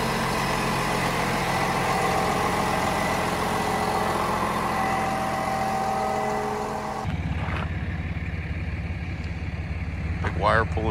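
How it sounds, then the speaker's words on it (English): A wire pulling trailer's engine idles with a steady low rumble throughout, briefly dropping in level partway through, while faint voices and a few thin mechanical noises come in near the end. "Wire pulling trailer, and that thing's sweet."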